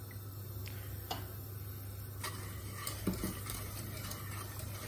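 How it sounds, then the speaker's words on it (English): A whisk stirring milk with sugar and a little vanilla in a bowl for a biscuit and cream dessert, making soft scraping swirls and scattered light clinks against the bowl over a low steady hum, close and quiet, with no voices. "Give that a stir using a whisk to make sure all the sugar is dissolved"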